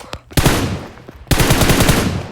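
Automatic gunfire in a shooting video game comes as two loud, rapid bursts, a short one and then a longer sustained stream, close and sharp.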